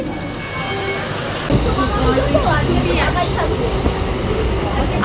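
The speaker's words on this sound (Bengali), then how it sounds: "আমরা আবার লোকাল ট্রেনে" Riding a local passenger train on a rail line in North Bengal, a steady rumbling rattle of carriages filling the space, with people talking over the running noise.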